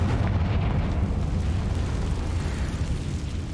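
Blasting spell explosion in the Hogwarts Legacy video game, a sustained deep rumbling boom that fills the whole moment, loud and close with no voices over it.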